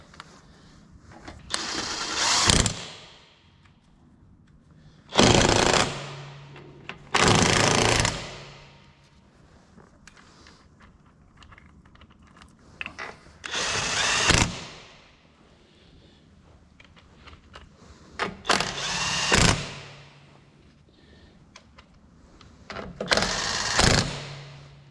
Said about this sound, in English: let's get the nut gun, rattle gun, nut gun, whatever you want to call it.